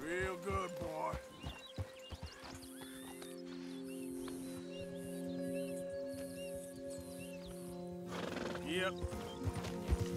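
Horse in the Red Dead Redemption 2 game snorting and whinnying with hoof clip-clops, close and clear over a sustained musical drone, while someone talks at times.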